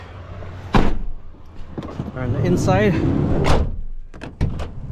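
Sliding side door on a 2014 Chevy Express van being worked and shut, with a sharp clack, a rolling slide and several latching thuds near the end, close by and mixed with someone talking.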